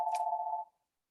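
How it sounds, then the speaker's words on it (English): A telephone rings in the background: a single clear electronic tone sounds for just over half a second and then cuts off into silence. "Sorry for that phone in the background."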